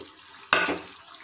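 Fried prawns are stirred into gravy in a hot pan, giving a short, bright burst of sizzle and scraping about half a second long before it drops back to a low simmer hiss.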